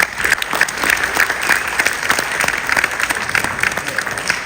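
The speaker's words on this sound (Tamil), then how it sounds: "ஆசிரியர்களுக்கு நீங்க கரகோஷம் கொடுக்கணும்" Audience applause for teachers at a school event, a dense, steady clapping from a crowd that carries on without a break.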